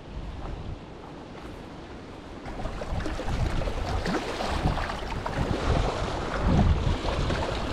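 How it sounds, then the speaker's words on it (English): Gusty wind buffets the microphone beside the fast-moving current of the Sacramento River, a continuous rushing roar heard from the bank, with no talk. "I'm getting like a lot of wind, a lot of really fast moving current"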